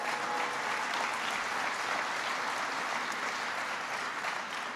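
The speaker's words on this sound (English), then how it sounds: "Give Tom Vilsack a big round of applause." An audience applauds Tom Vilsack at a political gathering in Fort Madison, Iowa, a dense, even roar of many hands clapping at once that holds steady throughout, with no talking over it.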